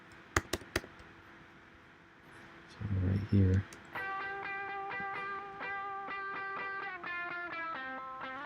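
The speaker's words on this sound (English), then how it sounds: "let's listen to this E-Guitar 4" An electric guitar track plays back in a mixing session: a few sharp clicks, a brief low burst, then a steady run of picked, slightly distorted notes with regular attacks, with someone talking quietly over it.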